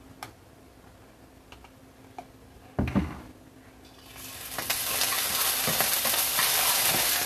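Minced garlic hits a little hot oil in a pan while cooking seafood mac and cheese: a thump, then a steady close sizzle that swells and holds loud and bright to the end, with no talking.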